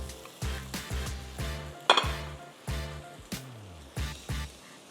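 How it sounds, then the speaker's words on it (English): Lamb dropping into a hot pan with chopped garlic for a Bolognese lasagna sizzles and fries, with repeated stirring and clinks of a utensil against the pan in bursts throughout. "I think it's time to drop the lamb in here."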